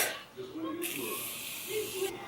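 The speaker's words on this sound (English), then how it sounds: "Alright, setting spray done." Makeup setting spray is misted onto a face in two bursts, each a sharp close hiss with a short pause between them, while a person talks softly underneath.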